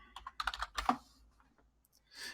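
An email address is typed on a computer keyboard in a few close, crisp keystrokes followed by a quiet gap and one last soft rustle of activity.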